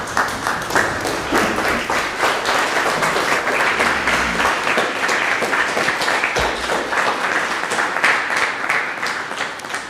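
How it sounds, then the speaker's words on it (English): A standing congregation applauds at a church service presided over by Sabbath LaFleur, a loud, continuous wash of many hands clapping close by, holding steady for the full stretch with a few low thumps beneath. "Y'all stand and give her a round of applause."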